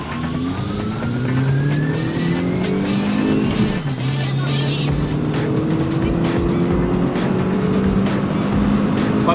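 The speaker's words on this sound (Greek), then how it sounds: "μπορείς να κάνεις λίγο πιο πολλές στροφές" An Opel car engine revs hard on a dyno, a loud, sustained rising roar with climbing pitch sweeps that continues unbroken for the whole stretch, with no talk.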